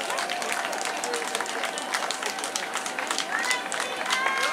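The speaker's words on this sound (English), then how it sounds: "And a round of applause as he comes through." Applause and cheering from a crowd greeting a runner finishing a 10k race, a steady patter of clapping with scattered voices and an announcer talking over it.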